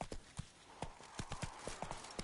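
Roach the horse gallops in The Witcher 3 video game, with quiet, quick hoofbeats clip-clopping in an uneven rhythm.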